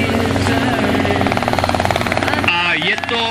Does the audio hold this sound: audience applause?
no